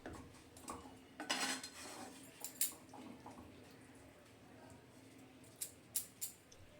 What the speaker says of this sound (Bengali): খুব ভালো করে নেড়ে চেড়ে এটা আমি বেশ কিছুক্ষণের জন্য ঢাকা দিয়ে দেব।